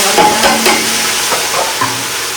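Asafoetida and ginger hit hot oil in a pan with a dense broadband sizzle, broken by a few light clinks and stirring scrapes, close and fairly loud, with no talking.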